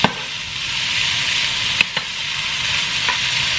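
Minced garlic frying in olive oil in a pan for ramen, a steady broad hiss with a couple of brief utensil clicks near the start and middle, close and continuous with no talk.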